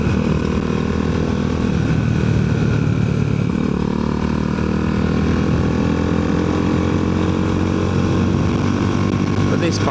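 A Herald Classic 400 motorcycle engine and exhaust, with a replacement end can after the original's baffle collapsed, drone steadily and loudly throughout while riding, with a slight shift partway through.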